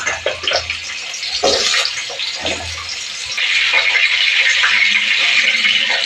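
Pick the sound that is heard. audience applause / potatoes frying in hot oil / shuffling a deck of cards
potatoes frying in hot oil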